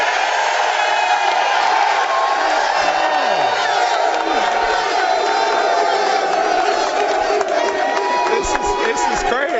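A packed television studio crowd in New York roars with cheers, whoops and shouts, a continuous loud wall of voices that never lets up, with some individual yells rising above the din.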